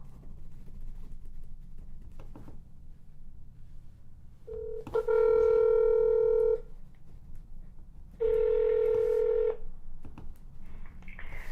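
Phone keypad tones while dialing the Summit County, Ohio prosecutor's office: two long, loud steady tones with a gap between them, over quiet room hiss.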